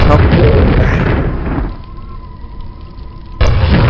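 A video game explosion lands as a loud, broad roar of noise in the opening second and a half, then fades into a quieter hum before a sharp burst of noise returns at the end.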